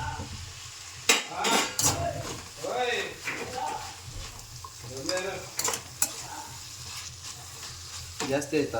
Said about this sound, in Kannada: ಕ್ಯಾರೆಟ್ ಸ್ವಲ್ಪ ಬ್ರೌನ್ ಕಲರ್ ಬರಬೇಕು, ಆ ಥರ ಫ್ರೈ ಮಾಡ್ಕೋಬೇಕು